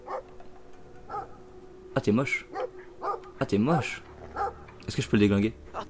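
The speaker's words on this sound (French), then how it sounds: "c'est quoi ça, c'est un chien?" A dog barks in the video game Brothers: A Tale of Two Sons, several short barks and yips spaced across the moment under a player's talking.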